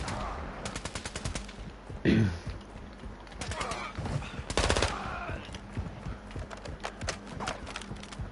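Rapid automatic gunfire in an online shooter game with an assault rifle and a sniper nearby: dense bursts of shots run steadily through the clip, with louder, closer volleys standing out, and muffled voices faint underneath.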